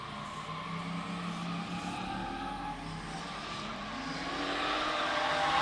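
Drift cars, one of them a Miata, run at a drifting event on the plains, with revving engines and sliding tires wailing in wavering pitch. The sound is close and loud and builds toward the end.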